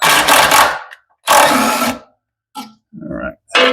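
Power tool working a bolt loose under a 1995 Camaro Z28 during transmission removal: loud buzzing bursts of about a second each, then shorter bursts after pauses, close up.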